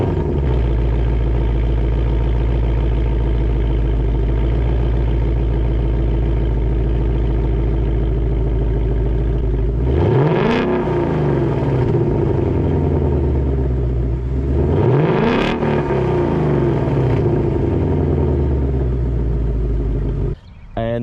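A 2022 Ford Mustang GT with its 5.0 V8 rumbles at a steady, loud idle close by, with two surging revs around the middle that swell and fall before settling back to idle; no talking.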